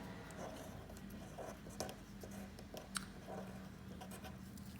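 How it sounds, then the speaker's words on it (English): A name being written by hand on paper during a narrative writing lesson, faint soft scratching strokes in short bursts over a low steady room hum. "We're gonna write our name."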